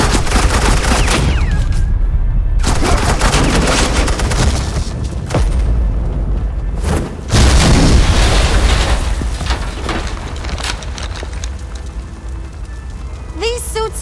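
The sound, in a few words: suppressing gunfire in a Batman video game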